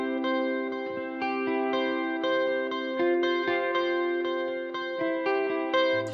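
Clean electric guitar picking a melodic line through a compressor and pitch pedal, notes ringing with smooth compression and a splash of the amp's spring reverb trailing each phrase.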